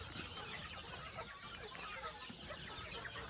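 Chickens on a small farm cluck continuously, several birds overlapping at close range under a dense, busy background, with no talk heard.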